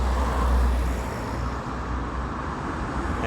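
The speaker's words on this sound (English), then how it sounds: "Sorry for the traffic noise," Steady roadside traffic rumbles without pause: a continuous low, broad wash of passing cars and trucks, fairly loud and close, with no talk.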